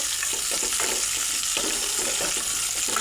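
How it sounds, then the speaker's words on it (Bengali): Cashews, nuts and raisins fry in hot ghee with a dense, even sizzle, broken by soft stirring clatters and scrapes in the pan, close and continuous with no voices. "ঘিয়ের মধ্যে আমি কাজু আর বাদামগুলা, কিশমিশ ভেজে নেব।"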